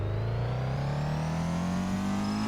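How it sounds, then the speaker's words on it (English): A JDM car engine idling with a misfire, a steady close-up engine drone whose pitch creeps gradually upward with a slightly uneven, stumbling texture throughout, no voices over it. "this one definitely has misfire"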